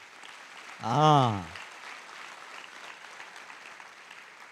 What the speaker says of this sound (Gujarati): તાળીઓ જોરથી વાગ્યું જોઈએ